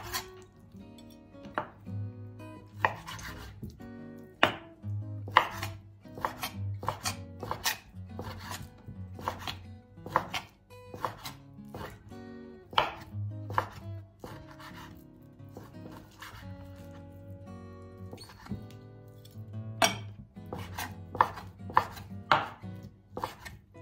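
A knife chops pork pieces on a wooden cutting board for a Thai basil stir-fry in a home kitchen, with steady, close, crisp strikes repeating in quick irregular runs and no talking.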